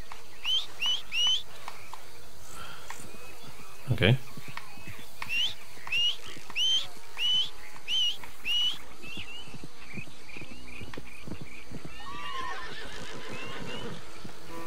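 Repeated short upward whistles call a horse in Red Dead Redemption 2, about six in a row with a thud between, followed by a horse whinnying amid game ambience and hoofbeats; someone speaks briefly.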